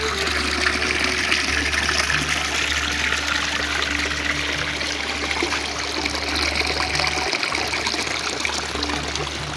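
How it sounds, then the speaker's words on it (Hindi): Small decorative waterfall at a riverside picnic resort, a steady close splashing and trickling of falling water that runs continuously, with a low mechanical hum beneath and no talk. "ये भी एक खूबसूरत झरना लगा हुआ है।"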